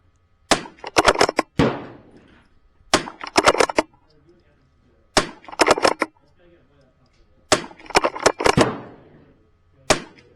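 Repeated .22 LR gunshots fired in quick bursts during a timed shooting drill, sharp nearby cracks grouped in clusters of three to five with short pauses between strings.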